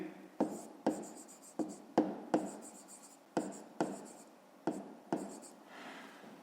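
Writing by hand on paper during a fifth-grade maths exercise: close, quick scratchy pen strokes come in about a dozen separate bursts with short pauses between them, and nobody speaks.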